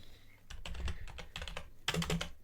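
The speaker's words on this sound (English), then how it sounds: "I will be typing your answer down" Rapid clattering keystrokes on a computer keyboard, close and steady, with a brief louder burst near the end.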